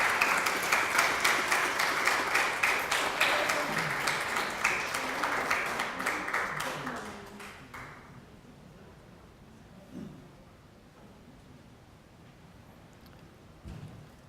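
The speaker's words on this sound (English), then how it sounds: "a warm round of applause" An audience applauds a guest speaker at a lecture, a steady broadband clatter for about seven seconds that then fades, leaving a quiet room with a few faint bumps.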